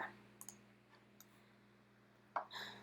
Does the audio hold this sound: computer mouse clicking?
yes